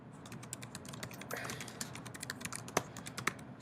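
Typing on a computer keyboard while entering a group name and description, a steady run of quick, light key clicks with a few sharper taps near the end.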